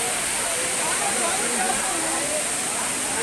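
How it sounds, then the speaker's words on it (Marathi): A waterfall near Tirupati, water pouring down from above, heard as a steady, loud broadband rush that fills the whole stretch without a break, with no distinct voices standing out over it. "पाणी पडतं वरून."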